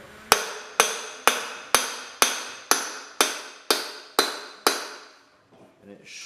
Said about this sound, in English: Now, I take a crowbar and a hammer. You wedge the crowbar in here.